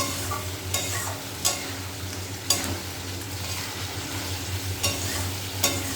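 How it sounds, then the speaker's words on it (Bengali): Spice masala sizzles steadily in a hot pan as a spoon stirs it, scraping with occasional sharper knocks against the metal over a continuous frying hiss. "মশলাটা কষা হওয়ার জন্য ওয়েট করব।"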